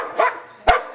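A dog gives two short, sharp barks during a training session, each one close and clear, separated by a brief pause.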